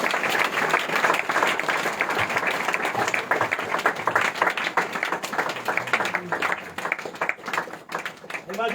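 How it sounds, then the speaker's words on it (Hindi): Audience applause at a church Christmas program, steady clapping across the whole stretch with crowd noise and some voices mixed in. "जोर से ताली बजाएंगे"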